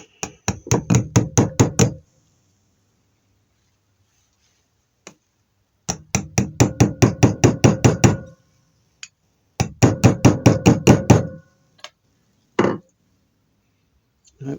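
A hammer taps a BMW R100 or Yamaha XT500 motorcycle part down over a pad, loud rapid strikes in three bursts of about a dozen blows each, with a few single knocks between.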